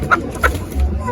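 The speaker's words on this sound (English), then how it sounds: "I'm buying a live chicken." A live chicken at a market clucks twice in quick short calls, close by, under a low background hum and faint voices.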